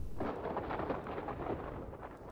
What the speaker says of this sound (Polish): Ta burza tutaj.